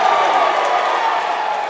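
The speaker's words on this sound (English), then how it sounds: "Crowd's loving that." A crowd at a live MMA bout cheers and roars as one broad, loud wash of sound, sustained evenly through the brief moment.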